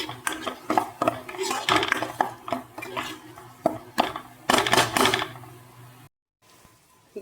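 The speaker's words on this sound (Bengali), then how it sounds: "এইবার ধনে গুঁড়োটা মিশিয়ে আরও তিন থেকে চার মিনিট আমি কষিয়ে নেব" A spatula stirs coriander powder into onion, ginger and garlic in a pan for chicken tikka masala, making repeated scraping and tapping strokes in an uneven rhythm, followed by a brief silence.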